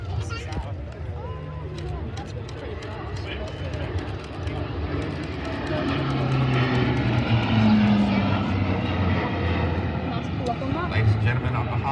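A propeller aircraft flies overhead at the Richmond Air Show, its steady engine drone growing louder toward the middle and staying strong to the end, with a crowd and voices chattering underneath.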